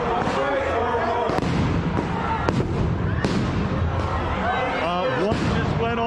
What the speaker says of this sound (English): flashbangs